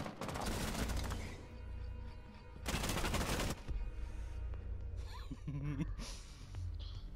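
Gunfire in Rainbow Six Siege, dense bursts of rapid automatic shots in two loud stretches, with game sounds and a few brief vocal noises between them.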